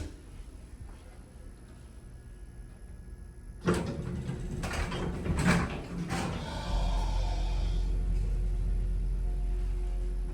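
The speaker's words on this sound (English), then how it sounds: "Oh, I gotta hear this motor." A vintage Houston hydraulic elevator in a building at 5800 Ranchester, Houston, Texas: door clunks and rattling lead into the motor starting, then a steady low hum running loudly to the end.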